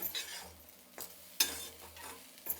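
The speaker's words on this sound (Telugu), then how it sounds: "చూడండి, మన అరటికాయ కూడా బాగా వేగిపోయిందండి." Fried raw banana pieces are stirred in a pan, with a faint sizzle under a few soft, scattered scrapes of a spoon, quiet and close.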